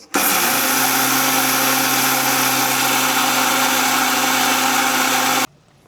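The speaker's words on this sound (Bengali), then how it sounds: "প্রথমে আমি মাসকালার ডাল কিনি ব্লেন্ডার করব গুঁড়া করার জন্য" An electric blender grinding black gram (mas kalai) dal into powder: a loud, steady motor roar that starts abruptly, holds an even pitch for about five seconds, then cuts off sharply. No one speaks.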